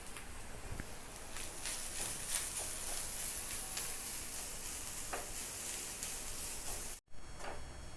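Grated coconut frying in ghee gives a soft, continuous sizzle with faint scattered ticks from stirring, low in level and heard alone with no talking.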